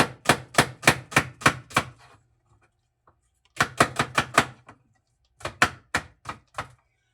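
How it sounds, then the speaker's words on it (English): A knife chops an onion on a cutting board in three bursts of quick, evenly spaced thuds, six strokes then a pause, another run of about six, and a final short run, close and crisp with no talking. "So let's cut the onion. We're going to cut it."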